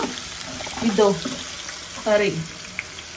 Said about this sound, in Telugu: ఉడకబెట్టుకున్న చింతపండు గుజ్జునైతే వేసుకుంటున్నాము